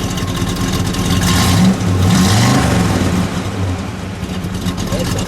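A 1965 Chevrolet Chevelle SS convertible with a 327 V8 engine, running close by with a low rumble that rises in a couple of short revs before settling back, with people talking nearby.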